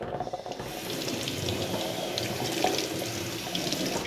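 Water runs steadily from a kitchen tap over a stovetop coffee percolator just taken off the heat, a continuous close, fairly loud gush and splash that holds level for about four seconds with no talk.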